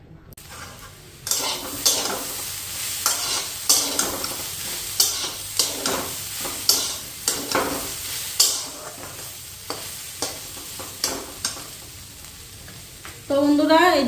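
Potatoes and cabbage frying together in a pan on a home stove: a steady sizzle broken by repeated scrapes and clinks of a spatula stirring against the metal, close and fairly loud, with a louder sizzle near the end.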